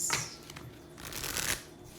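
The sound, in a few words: shuffling tarot cards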